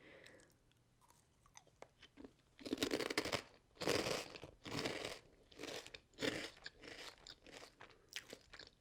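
Prawn cocktail flavoured crisps crunched up close in the mouth, a run of crisp loud bites and chews with short pauses between them, recorded binaurally in a quiet room.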